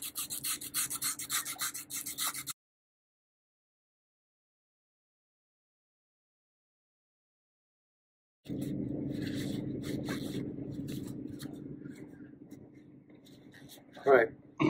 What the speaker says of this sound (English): I'm just trying to clean up some of this rust. I'm using the rougher side first